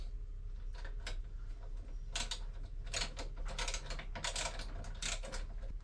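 A wrench tightens a part during boat maintenance, giving quiet, close ratcheting clicks in short irregular bursts over a steady low hum, with no talk.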